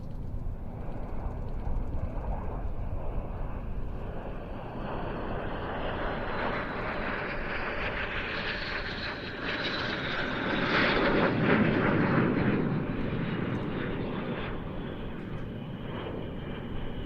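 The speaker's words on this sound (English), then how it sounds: "Classic manoeuvre of L-39 jet teams over the years. This is the Apache rolls" L-39 jet team aircraft flying Apache rolls at an airshow practice, a loud continuous engine roar that swells and fades as the formation passes, with a broad rushing noise peaking near the middle.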